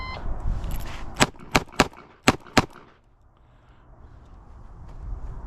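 Five sharp gunshots from a Ruger LCRx revolver crack in quick succession at an outdoor range, loud and close, followed by quiet background ambience.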